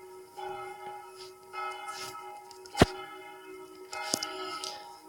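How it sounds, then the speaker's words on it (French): A church bell rings in a video game from the bell tower of Notre-Dame des Sables church, during a funeral. Sustained, ringing tones hum through the clip, with one sharp, loud strike in the middle and another softer one later. "On attend que la cloche 1 finisse de sonner"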